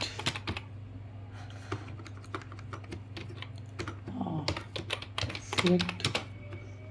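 Keys clatter on a computer keyboard as an SQL query is typed, in quick irregular bursts with a few louder key presses, close up over a low steady hum.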